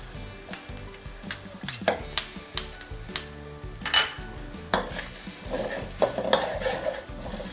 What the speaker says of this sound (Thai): ผัดให้หอมค่ะ โอเคกะปิหอมแล้วนะคะ กระเทียมก็เหลืองแล้ว